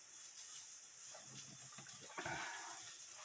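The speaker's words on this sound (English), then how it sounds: "I'm going to rinse my cabbage off again" Water running from a sink tap as cabbage gets rinsed, a steady faint splashing gush with a brief louder surge partway through, no voices.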